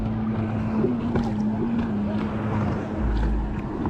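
A jet ski speeds near a beach shore, its steady engine drone held at moderate distance beneath wind and surf noise.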